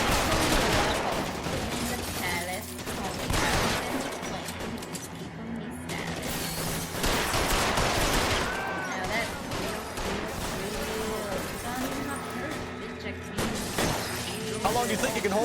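A gunfight in L.A. Noire, with repeated shots and bursts of gunfire spread across the scene alongside mechanical clatter, while voices talk over the shooting.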